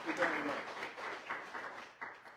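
Audience applause at a crisis center expansion ribbon cutting ceremony, a steady wash of clapping for about two seconds with a slight swell near the start.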